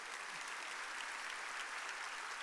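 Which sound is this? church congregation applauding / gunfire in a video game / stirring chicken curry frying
church congregation applauding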